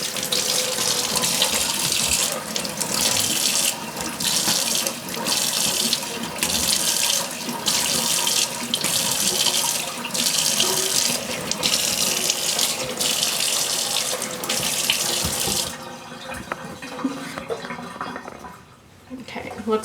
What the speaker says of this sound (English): Now I'm going to rinse it off and see if I missed anything.